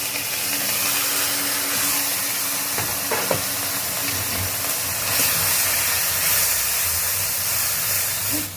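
Banana blossom tipped into a hot pan of ginger, garlic, onion, cumin and green chilli paste, giving a steady close hiss of sizzling and steam with a few brief clatters, no voices.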